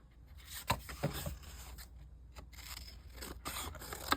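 A page being taped into a travel journal: crisp, close snips, scrapes and paper handling in short, irregular bursts against a quiet room, with no speech.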